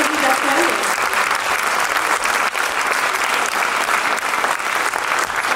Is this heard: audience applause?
yes